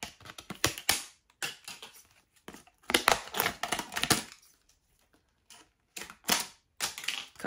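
Large scissors cut through plastic packaging in a series of loud, crunchy snips and crackles, coming in irregular bursts separated by short silences.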